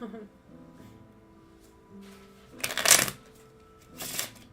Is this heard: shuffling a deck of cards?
yes